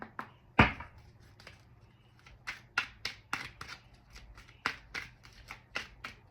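A tarot card deck is shuffled by hand, close up: a loud riffle snap followed by a steady series of sharp papery slaps and flicks in an uneven rhythm, with no talk.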